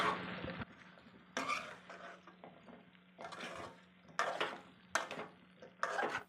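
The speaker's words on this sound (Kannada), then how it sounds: "ತೊಂಡೆಕಾಯಿ ಸೇರಿಸ್ಕೊಳ್ತಾ ಇದ್ದೀನಿ. ಅರ್ಧ kg ಅಷ್ಟು ತೊಂಡೆಕಾಯಿ ತೊಗೊಂಡಿದ್ದೀನಿ. ಹಾಕ್ಬಿಟ್ಟು ನೀಟಾಗಿ ಮಿಕ್ಸ್ ಮಾಡ್ಕೊಳ್ಬೇಕು." Intermittent scraping and clinking of a utensil stirring half a kilogram of ivy gourd in a pan, several short bursts separated by brief quiet moments, with a faint steady hum underneath.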